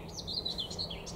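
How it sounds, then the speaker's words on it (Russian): Nightingales sing outdoors among trees, a few short bright chirps and trills repeating over a steady low background hum. "Вот соловьи поют опять же."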